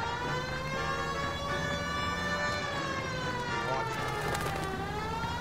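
A police car siren wails continuously in the video game L.A. Noire, a rising and falling tone over engine and traffic noise, with someone talking under it.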